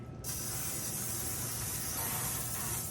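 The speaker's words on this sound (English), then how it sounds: "I am gonna go ahead and spray the pan because I really don't want it to stick." A single continuous hiss of cooking spray onto a pan, close and steady for about three seconds, with no talking.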